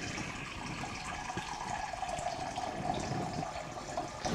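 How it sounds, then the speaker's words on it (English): Hot water pours from a tap into a pan on a kitchen counter, a steady close rushing and splashing that holds throughout without talk. "So put some hot water"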